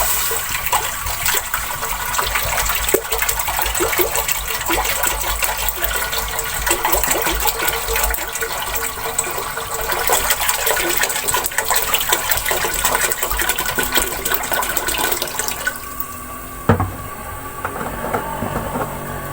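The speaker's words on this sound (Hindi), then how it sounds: "आज हम बना रहे हैं ओजरी, जिसमें मैं 6 गिलास पानी को शामिल कर लूँगी" Steady rushing pour of six glasses of water filling a pot for cooking tripe, continuous and close, with a brief clunk near the end and no talking.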